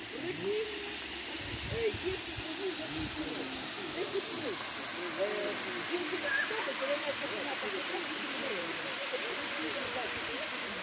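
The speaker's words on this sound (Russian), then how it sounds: "Давайте подійдемо зараз ближе к водопаду" A waterfall in a park rushes as a steady, broad hiss that fills the whole stretch at moderate distance, with faint voices murmuring underneath.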